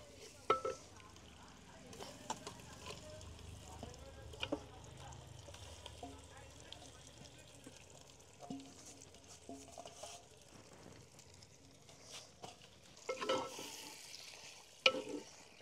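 Spicy mutton curry mixture is stirred in oil outdoors on a farm, faint sizzling under repeated spoon scrapes and clinks against the pot, with scattered soft background noises.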